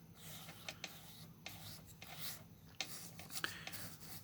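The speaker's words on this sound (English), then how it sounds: "You can kind of scrub it into the pores." Scrubbing Blanco into the pores of a surface with a brush or applicator produces soft, repeated rubbing and rasping strokes at close range, fairly quiet, with no talking.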